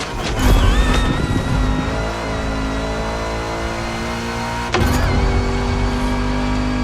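A Ford Mustang muscle car roars through a swamp cruise race in The Crew Motorfest, its engine loud and close, revving up sharply near the start and again after a shift midway.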